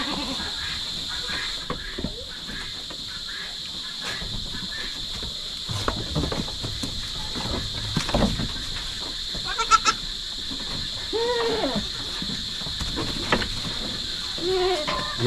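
Goats bleat repeatedly on a farm, several near and far calls with a steady high insect-like hum and rustling in the background.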